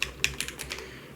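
Quick, close clicking keystrokes on a computer keyboard in an irregular run, with about eight taps in a little over a second and no talking.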